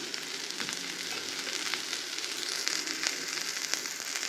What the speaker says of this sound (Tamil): இப்போது நல்லா எண்ணெய் ஊற்றிட்டு தோசையை திருப்பி விட்டுக்கலாம்